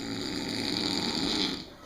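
A sleeping pig snores up close, one long loud rasping breath that fades at the end, with no talk.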